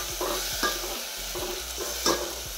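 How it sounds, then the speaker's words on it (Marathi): Vegetable bhaji with dal being stirred in hot oil over a low gas flame: a steady sizzle under repeated scraping spoon strokes against the pan, close and fairly loud, no talking. "मस्त असं तेलात परतून घ्यायचं 1-2 मिनिटं बारीक गॅसवर."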